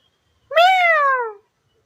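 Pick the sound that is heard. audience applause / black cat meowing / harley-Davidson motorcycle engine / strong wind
black cat meowing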